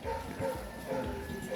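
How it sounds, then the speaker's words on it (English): Dogs bark a few times at a moderate distance near a church grounds, the short barks rising over background chatter and outdoor ambience. "dogs are barking, they sense some danger."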